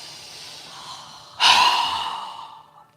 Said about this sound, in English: when we exhale, we're going to exhale with a very strong breath